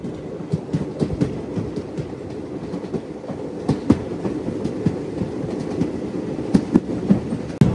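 A Narsapur Dharmavaram Express passenger train rolls along the rails with a steady rumble and repeated clickety-clack joint knocks. It is heard from on board, loud and continuous, with no speech.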